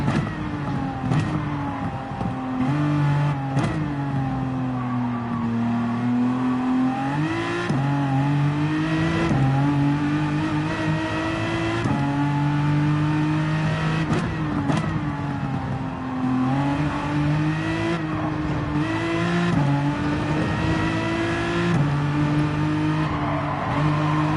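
Race car engine in Gran Turismo 7 holding a steady, loud drone with rising and falling pitch as it revs and shifts, continuous throughout with no talk.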